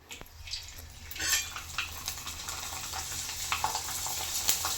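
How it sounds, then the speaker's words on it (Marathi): Sago papad frying in hot oil in a wok gives off a close, steady crackling sizzle, dotted with sharp little pops and occasional utensil clinks, with no talking. "मला शाबूची मस्त असा पापड तळून दाखवते"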